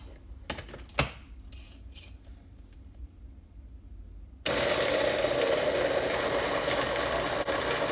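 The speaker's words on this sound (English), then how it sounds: "In there, I have my peppers, my garlic. I'm gonna blend it" A small chopper switches on partway through, blending peppers and garlic with a loud steady whirring motor drone that continues to the end after a few quiet clicks.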